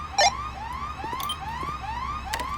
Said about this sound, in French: on a une alarme qui vient de se déclencher au même endroit